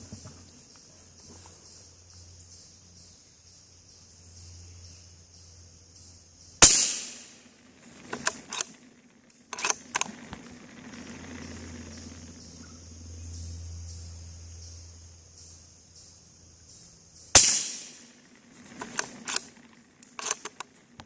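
Two sharp, muffled reports from a suppressed Ruger American Ranch rifle in .300 AAC Blackout firing subsonic rounds, about ten seconds apart, each followed by brief clatter, over quiet outdoor background.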